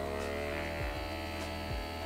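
Suction device of a LUX SKIN microdermabrasion kit running with a steady, close electric motor hum, broken by a couple of soft low thumps.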